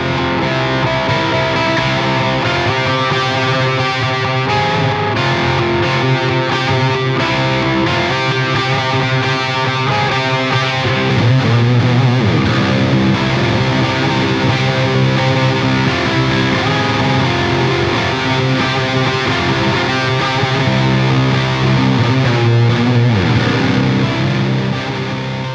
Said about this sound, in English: So you can create your own reverbs, import them into the pedal, and then edit them in the pedal.